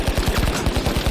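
Rapid automatic gunfire from a weapon in the shooter game The Finals, a steady burst of evenly spaced, loud shots running for about a second with no talking.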